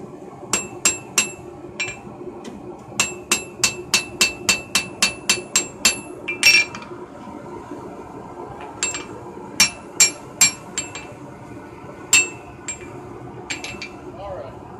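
A hammer rings sharply on hot steel over an anvil while a blacksmith forges a knife, with rapid bursts of clear metallic strikes in rhythmic runs and pauses between, loud and close.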